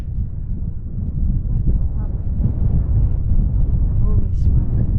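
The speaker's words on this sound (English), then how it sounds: "There's a little bit of a wind gust." Steady wind gusts buffet the microphone at a windy overlook on the Grand Canyon's North Rim, a loud continuous low rumble that swells slightly partway through, with faint voices underneath.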